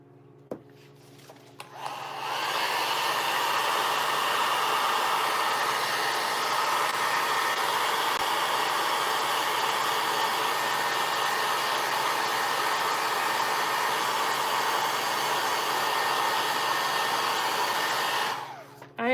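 An electric heat tool blows steadily behind a stack of paper book pages coated with wax, a loud continuous whooshing hiss that starts after a brief pause and runs unbroken for about sixteen seconds before cutting off.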